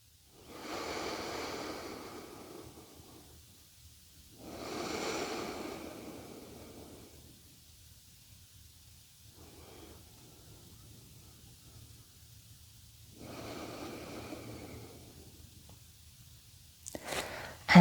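Slow, deep breaths during a bedtime yoga stretch come as three long, soft whooshing swells spaced several seconds apart, close and fairly quiet, with near-silent gaps between them and no talk.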